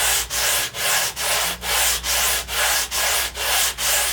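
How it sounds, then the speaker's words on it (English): Wood being sanded with sandpaper glued onto a flat piece of glass while trueing a guitar neck for its fingerboard, heard as close, loud, rhythmic rubbing strokes, about ten even back-and-forth passes with no talking. "I will often get out this piece of glass that I have with the sandpaper on it, and then I'll just sand this a little bit"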